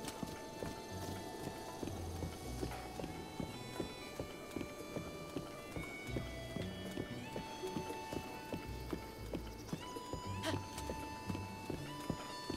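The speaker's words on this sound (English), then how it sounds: "we got a horse for a reason, to help with the traveling segments" Horse hooves clip-clop at a steady rhythmic gait throughout while riding in The Legend of Zelda: Breath of the Wild. The hoofbeats are fairly faint and mixed with background game music.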